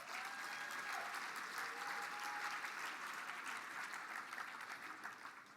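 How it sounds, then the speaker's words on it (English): Sustained applause from a large audience at the Mille Lacs Band of Ojibwe State of the Band address, a dense wash of clapping that holds steady and then begins to fade toward the end. "Let's give them a round of applause for that."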